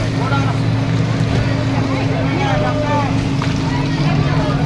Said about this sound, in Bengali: এখান থেকে একটা বোট ছাড়ছে, 6 জনের বোট